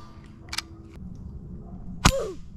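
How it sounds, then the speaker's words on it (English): HPA airsoft gun fires a single BB shot, one sharp, close crack near the end with a faint ringing after it, preceded by a few small mechanical clicks over quiet room tone. "let's actually take our HPA war sport and see if this guy will actually withstand some BB shots"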